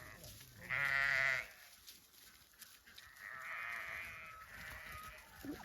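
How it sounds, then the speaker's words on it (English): Faint lamb bleats in a quiet outdoor setting: one clear wavering bleat, then softer, longer bleating calls further off. "Oh, there's some lambs"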